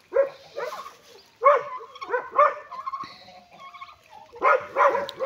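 Laika hunting dogs bark in repeated bursts near a farmyard with turkeys, sharp clustered yaps separated by brief pauses, with softer whines and fowl calls between the bursts.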